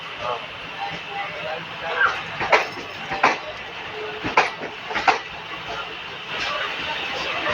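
The Diva–Sawantwadi passenger train rumbles along in the monsoon with rhythmic clanks and clatter from the rails, heard from inside over a steady background roar.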